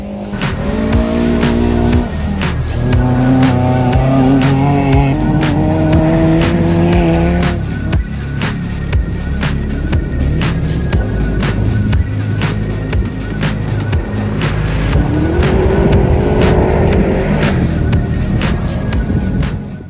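Modified all-wheel drive rallycross cars racing on a Lake Superior SCCA course, engines revving and shifting loudly and continuously with tire noise and cars passing nearby.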